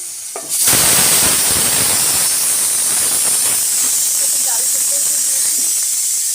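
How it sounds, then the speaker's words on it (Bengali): Onions and green chilies hit hot oil with a sudden loud hiss, settling into a continuous, close, steady frying sizzle. "তেলে পেঁয়াজ দিচ্ছি, মরিচ দিয়েছি"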